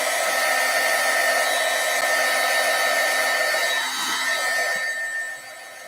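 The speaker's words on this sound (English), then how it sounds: "I'm going to take my heat tool and I'm just going to set this" Heat tool blowing hot air to dry layers of ink on stamped cardstock: a steady, loud, airy whoosh with a motor hum that runs for several seconds, then drops away near the end.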